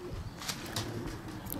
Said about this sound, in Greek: Είναι φανταστικά τα περιστέρια.